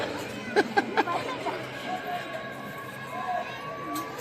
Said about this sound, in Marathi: गर्दी आहे.